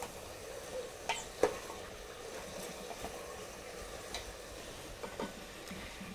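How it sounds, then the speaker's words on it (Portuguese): Ingredients for pato no tucupi sautéing in a pan, a continuous close frying sizzle with scattered scraping and stirring clicks from a utensil against the pan. "acabando de refogar."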